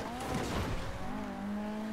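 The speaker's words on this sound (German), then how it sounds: "Der rutscht mir zu sehr." A Kuruma car skids in Grand Theft Auto 5, its tires giving a drawn-out squeal that bends in pitch over a low engine rumble, heard up close for about two seconds.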